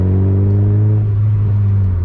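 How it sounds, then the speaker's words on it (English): A Mazda MX-5 MK2 in second gear revs with a loud, close, droning engine note that holds steady from start to end; no distinct exhaust bang stands out. "Yeah, it bangs a lot in second."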